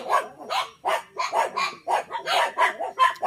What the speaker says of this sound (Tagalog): Maingay yung aso namin.